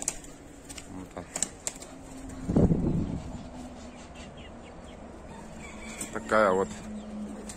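Black-necked pigeons coo and flutter in a quiet enclosure, with a low cooing burst partway through and soft bird calls later, while someone speaks briefly nearby.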